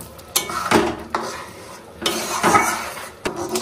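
A spoon stirs boiled bottle gourd and lentils in a pot, giving several close scraping strokes and metallic clinks against the pot in uneven bursts, with no talking.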